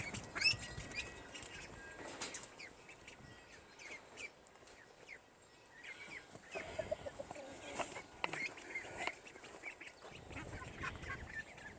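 Black Cochin chickens cluck and squawk in soft, scattered bursts close by, mixed with duck-like calls from nearby birds, over a low background hum and no speech.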